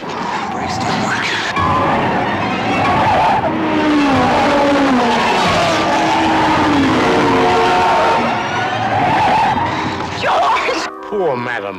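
A car with failed brakes skids with long screeching tires and a roaring engine in a Hitchcock film trailer, loud and sustained for about ten seconds before cutting off, with dramatic music and voices mixed in.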